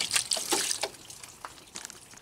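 Water poured from a gallon jug splashes and trickles over a spill beside an old Dodge Durango during coolant work, in irregular close bursts that taper into a softer dribble.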